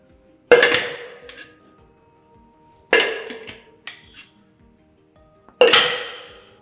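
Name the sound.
flair bartending, glass bottle caught into shaker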